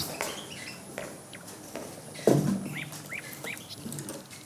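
Quiet, short whistled chirps and trills from a nightingale, several quick notes in a row against faint rustling background noise.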